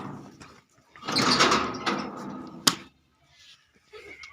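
A door pulled open with a scraping, rattling slide, followed by a sharp bang, with muffled noise around it in a dramatized comedy scene.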